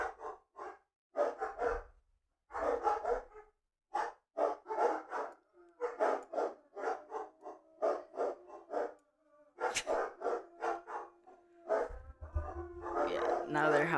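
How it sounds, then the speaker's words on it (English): Dogs bark repeatedly in quick irregular bursts, mixed with longer howl-like tones toward the end, moderately near, with a person talking at times over the barking. "Oh, I think another dog's barking at them."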